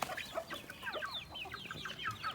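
Native Thai chickens cluck softly in a backyard flock, a run of quick, faint, overlapping clucks and chirps at some distance, with a low background hum underneath.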